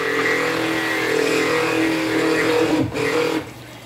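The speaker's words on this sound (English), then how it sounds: "So excuse the noise while I blend." A 150 watt stick blender runs in soap oils for cold process lavender and chamomile soap, giving a loud, steady motor whine with a brief dip near the end before it cuts off.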